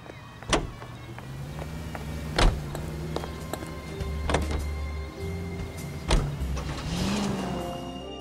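A 1940s-style car driven in the L.A. Noire video game, a steady engine hum with shifting pitch, broken by several sharp clicks or thumps spaced a couple of seconds apart.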